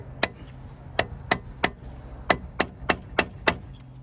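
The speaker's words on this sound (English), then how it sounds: "you can use your chisel to push it completely" Steel chisel struck repeatedly with a hammer to drive out a Mazda3 front wheel bearing: nine sharp metallic whacks in an irregular rhythm, close and loud, over a faint background hum.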